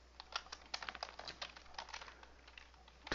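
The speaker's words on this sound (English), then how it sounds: "I'm going to type what I want first." Quick, light key taps on a computer keyboard, an uneven run of clicks close by and fairly quiet, with no talking.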